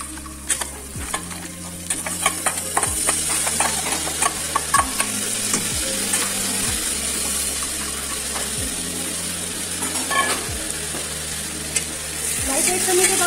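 Onions sauté in a pan with a loud continuous sizzle, punctuated by regular scraping strokes of a stirring utensil every couple of seconds, close by and without talk.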